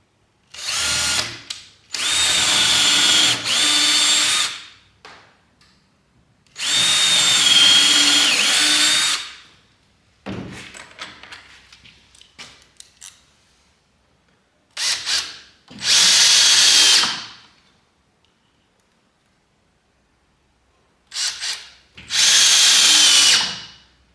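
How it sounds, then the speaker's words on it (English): Power drill pre-drilling wood boards, several loud close bursts of whining motor drilling separated by pauses, with quieter handling and rubbing between runs. "Let's do a little pre-drilling."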